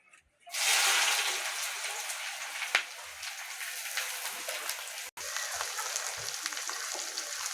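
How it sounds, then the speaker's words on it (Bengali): Chopped onions hiss and sizzle steadily as they hit hot oil with whole cardamom, cloves, cinnamon and black pepper, a loud close frying sound that starts suddenly and continues with a brief pop and a short break, for Golbari-style mutton kosha. "পেঁয়াজটাকে ভালো করে ভেজে নেবো,"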